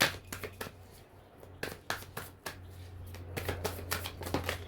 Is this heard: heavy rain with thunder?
no